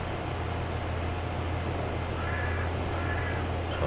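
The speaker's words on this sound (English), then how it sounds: "Bloody crows. They're everywhere." Crows caw at a distance by a creek, faint over a constant low rumble of a running vehicle engine, with no voices.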